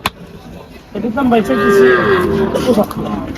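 A cow lets out one long, loud, close moo that rises and falls over about two seconds at a busy cattle market in Faridpur, with faint crowd noise behind it.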